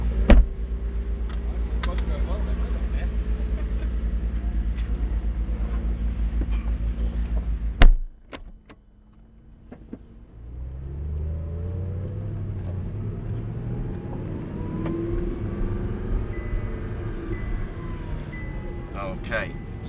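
Car being driven and then parked: a steady engine and road rumble for about eight seconds cuts off with a sharp thump, then engine hum resumes more softly while people talk.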